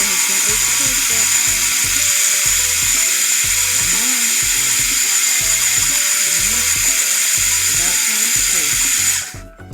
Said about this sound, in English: Blend time. I love my NutriBullet RX. It has amazing soup mode.